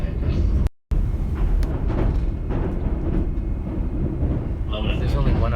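Steady rumble and rattle of a train car's interior on a run to Tokyo, a loud continuous drone of wheels and motion with a brief dropout near the start.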